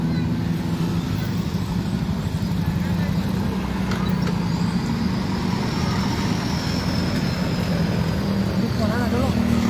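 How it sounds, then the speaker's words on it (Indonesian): Steady road traffic on Jalan Persatuan Raya, the Trans Sulawesi road in Sinjai, with parents' vehicles parked along it: a continuous low rumble of passing cars and motorbikes, fairly loud and unbroken throughout. "Arus lalu lintas."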